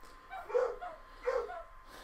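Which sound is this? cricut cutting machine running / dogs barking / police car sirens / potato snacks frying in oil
dogs barking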